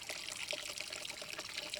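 Coolant fluid draining steadily from a 1982 Jeep CJ7's cooling system, a continuous close trickle and pour with soft splashing and no talk.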